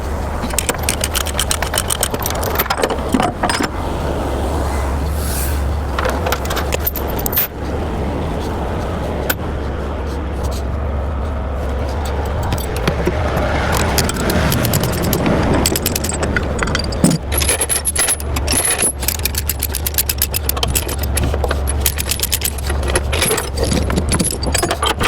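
Heavy chains rattling and clanking as they are removed from a new Cat 325 excavator on a trailer, close and irregular over a steady low idling truck engine rumble outdoors.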